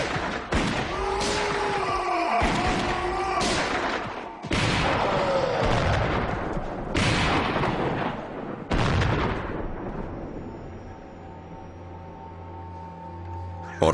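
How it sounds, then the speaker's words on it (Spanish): Loud bursts of gunfire erupt repeatedly in heavy overlapping volleys, crackling and booming close by before trailing off into a lingering rumble. "¡Disparen!"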